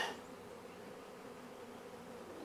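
A honeybee swarm being hived hums steadily and fairly close, a dense continuous buzz of many bees with no talk over it.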